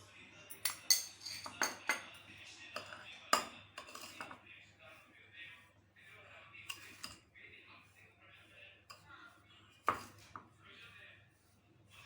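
Spoon stirring coriander panjiri with sugar in a pan, a string of sharp metallic clinks and scrapes, some grouped in quick bursts, close and clear over a quiet room with faint low hum.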